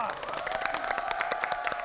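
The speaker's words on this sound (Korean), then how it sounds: "자 우리 초롱 씨에게 박수 한번" Studio audience and cast applauding for Park Cho Rong on a Korean variety show set, a dense steady patter of claps with voices mixed in.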